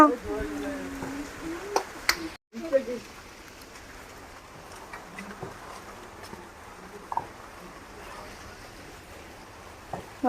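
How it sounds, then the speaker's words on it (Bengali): Heavy rain pours steadily in a dense, hissing patter, with a person talking briefly near the start over the downpour. "দেখো কি জোরে ঝমঝমিয়ে বৃষ্টি এসেছে"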